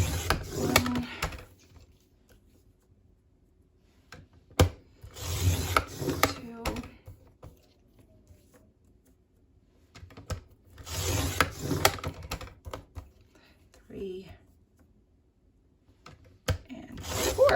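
A paper trimmer slides and slices through strips in a few separate bursts of rubbing, scraping blade strokes, close by, with quiet pauses between cuts.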